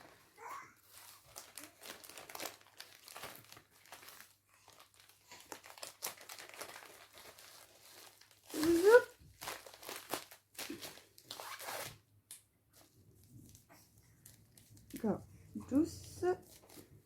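Plastic packaging from a diamond painting kit crinkles as it is packed away, in quiet, scattered rustles with a few sharper bursts and pauses between them.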